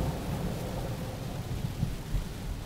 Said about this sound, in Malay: Subhanallah, hujan lebat.